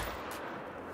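A hunting rifle fires in theHunter: Call of the Wild, one dull booming shot whose roar carries through the brief moment, fairly faint and muffled, with no speech.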